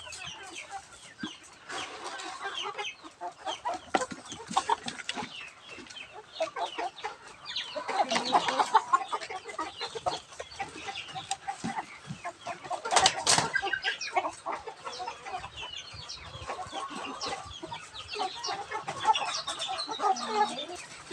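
Six-month-old breeder hens and a large, tall rooster of the Agaw breed cluck continuously in a farm pen, many birds calling over one another at close range, with occasional wing flaps and no talk.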